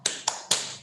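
A teacher leads the 'tepuk semangat' clapping rhythm with both hands. Three sharp, close claps sound at irregular intervals, followed by a lighter fourth clap, with no talk over them.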